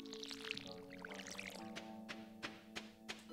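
In the farming video game Stardew Valley, a watering can pours onto crops with a soft splashing gush over the game's gentle background music, followed by a few sharp plucked notes.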